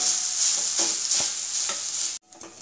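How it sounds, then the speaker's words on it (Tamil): Urad dal filling with asafoetida sautéed in a pan for kozhukattai; a steady, bright sizzle with occasional stirring scrapes runs loud and close, then cuts off abruptly near the end. "இது ஒரு 2 to 3 minutes வரைக்கும் நல்லா வதக்கிடலாம்"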